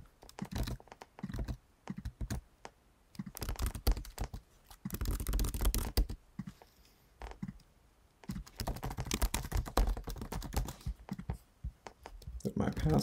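Computer keyboard typing while filling out an online account form: rapid bursts of close, crisp key clicks separated by short pauses, with a person talking quietly between bursts.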